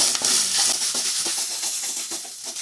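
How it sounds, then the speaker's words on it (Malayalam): Grated coconut frying in a pan for a Kerala-style thari chicken, a steady bright sizzling hiss broken by faint scraping stirs, close and continuous. "നന്നായി വറുക്കുക."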